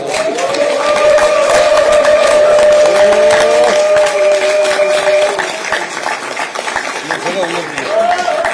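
A crowd at a Democratic Party campaign rally in Daegu claps in welcome, a dense continuous patter of hands under sustained music tones, with some voices mixed in.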